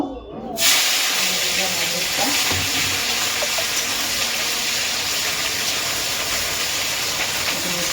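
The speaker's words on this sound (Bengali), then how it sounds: "তেল গরম হয়ে গেছে কড়াইতে, আর এই যে পেঁয়াজ কুচি আছে অর্ধেকটা এখানে দেব" Chopped onion hits hot oil in a wok, giving a loud, steady broadband sizzle that starts abruptly and continues without pause to the end.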